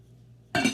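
A lid clinks onto a dish of cauliflower potato soup in a home kitchen, one short sharp clatter following a quiet stretch with faint hum.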